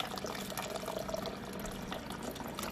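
Water streaming from the door dispenser of an LG French door fridge into an empty cup, a steady splashing trickle with faint dripping, close and moderately quiet throughout.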